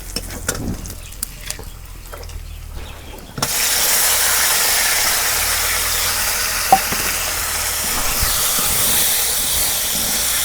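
Tempering for chicken bhuna with browned onions bursts into a loud, steady sizzle in the pan, a sudden rush of hissing frying that starts a few seconds in after quieter stirring and continues alone.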